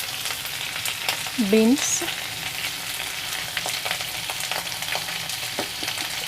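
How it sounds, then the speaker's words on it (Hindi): Mixed vegetables, beans among them, fry in a pan with a steady close sizzle and light scraping. A short voice cuts in near the start. "तो इसके साथ ही हम फ्राई करते जाएंगे"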